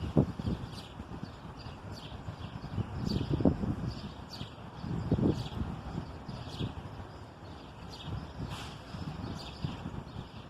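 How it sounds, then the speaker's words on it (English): Birds sing in a city, scattered high chirps and tweets repeating over a rustling outdoor background with occasional nearby knocks. "you still can hear the birds singing"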